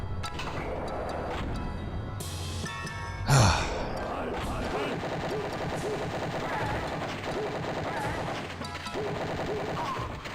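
Gunfire from the video game Wolfenstein 3D on the 3DO, rapid shots running through most of the clip under a steady game soundtrack, with one louder burst near the middle.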